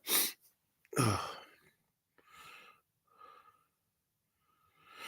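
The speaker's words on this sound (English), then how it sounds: "that sneeze finally came out." A loud, sharp sneeze bursts out, then comes a second forceful burst, followed by a few softer breathy snorts and sniffles.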